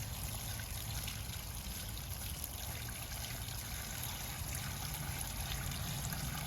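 Water drains steadily from an old home water heater with its drain valve fully open, making a continuous low rushing trickle that is faint and unbroken, with no voices.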